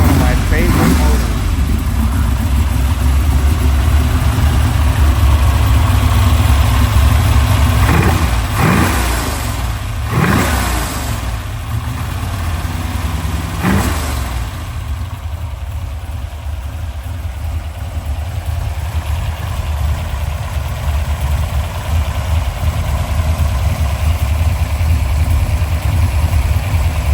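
A Ford Thunderbird engine idles with a steady, close rumble, broken by several sharp throttle blips early on, then settles back into a loud, even idle.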